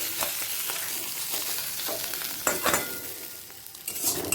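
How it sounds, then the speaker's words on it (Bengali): A fish head fries in a pan with a little oil, giving a steady close sizzle broken by a few louder spits and crackles, with no talking. "একটা দিক ভাজা হয়ে গেছে এবার অপর দিকটাও ভেজে নেব"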